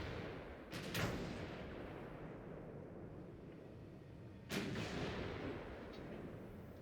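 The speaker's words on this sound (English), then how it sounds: "he's only really got one cannon you can fire on from here. And I've got two" Naval cannon fire in Ultimate Admiral: Dreadnoughts, two heavy booming shots a few seconds apart over a steady rumbling background of sea and engine noise.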